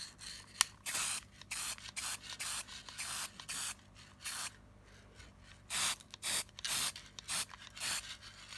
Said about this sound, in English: now I'm going to be spray painting them all gold